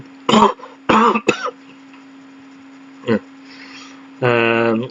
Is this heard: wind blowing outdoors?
no